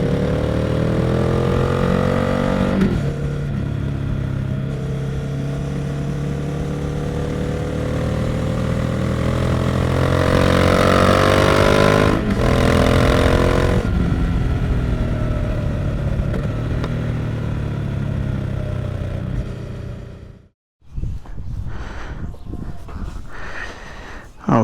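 Motorcycle on a short test lap, captured from a fender-mounted Zoom H1: a steady loud engine drone with rising and falling revs through gear changes, then a sudden cut near the end followed by scattered rattles and wind.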